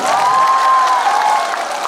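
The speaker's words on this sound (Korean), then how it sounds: "주최측 관계자분들한테도 박수 한번 주시고" Large outdoor beer festival audience clapping steadily for the organizers, a continuous dense applause with a sustained tone over it, fading slightly toward the end.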